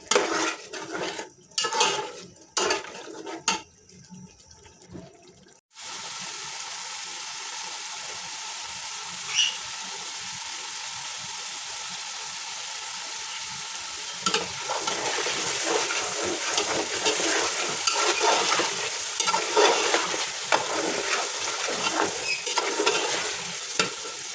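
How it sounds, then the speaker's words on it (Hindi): Spoon stirring and scraping a pot of desi paya roasting in yogurt and ghee, with clinks of metal early on, then a steady loud sizzle under continued stirring, no talking. "इसकी भुनाई करेंगे 5 मिनट। दही मिक्स हो जाएगा, घी ऊपर आ जाएगा।"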